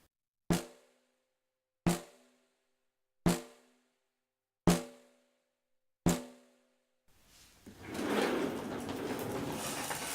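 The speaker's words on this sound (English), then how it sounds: "you can be left with a snare that sounds near silent" Five thin, hollow snare drum hits, weakened by polarity phase cancellation between microphones, land at an even pace, each decaying quickly, then a broad noisy wash rises and continues.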